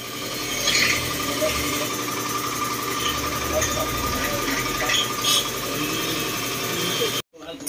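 An air blower runs continuously while a Yamaha XMAX 300 CVT scooter is cleaned, a loud steady rushing hiss with machine hum beneath. People talk over it throughout, and it cuts off near the end.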